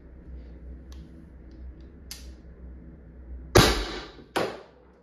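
An Umarex HDP 50 less-lethal pistol fires at 825 psi with a tuning barrel: two sharp, close pops about a second apart, after faint clicks of handling.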